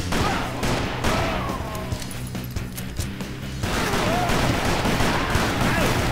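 Rapid Quick Shot revolver fire in Call of Juarez: Bound in Blood crackles in quick bursts of sharp shots, with a brief quieter gap before heavier gunfire resumes.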